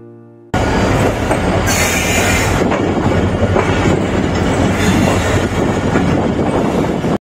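Sha Latif Express passenger train running on track in Pakistan, a loud continuous roar of wheels and rattling coaches heard from on board, starting abruptly after a brief quiet moment, with a hiss of high-pitched noise partway through.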